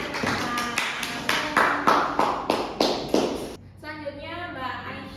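Classroom applause in a vocational school animation class in Indonesia: a group claps in a steady rhythm of about a dozen beats, close and lively, then fades into voices.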